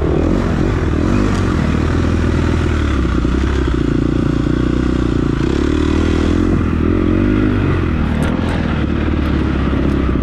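A dirt bike on a muddy enduro sprint track, its engine droning loud and close the whole time with shifting revs, along with some clatter and scraping from the rough ground.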